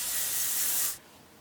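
Wave spray hisses from an aerosol can onto a section of hair in one steady close burst of just under a second, then cuts off abruptly.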